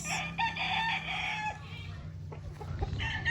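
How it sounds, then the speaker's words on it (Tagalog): Chickens cluck and a rooster crows nearby on a farm, layered calls over a soft low background hum, with a brief rustle and a short burst of clucking near the end. "pasyalan muna natin tong mga manok"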